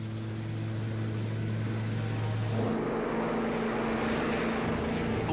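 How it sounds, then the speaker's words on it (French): Airliner engines spool up on a takeoff roll under light snow near freezing, a loud steady roar with droning tones that shifts pitch midway as power builds, continuous throughout. "Tain et Raymond amorcent leur décollage"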